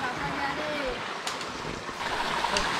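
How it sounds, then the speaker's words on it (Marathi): A forest stream on the trek from Vasota Fort flows in a steady, close broadband rush of water, with someone talking over it. "आपल्याला हा ओढा लागलेला आहे"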